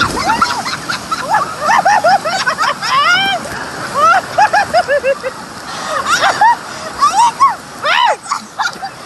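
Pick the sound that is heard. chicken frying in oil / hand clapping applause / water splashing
water splashing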